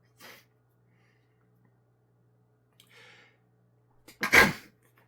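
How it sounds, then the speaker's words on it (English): A single sharp sneeze bursts out near the end, preceded by a couple of faint sniffs and breaths in an otherwise quiet room. "Or you'll just keep sneezing."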